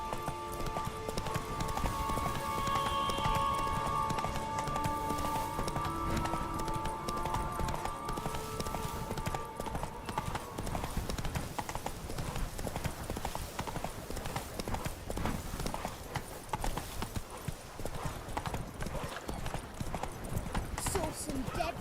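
Roach, the horse in The Witcher 3, gallops with steady rapid hoofbeats close by, and a voice talks over the clip-clop while music plays in the first half.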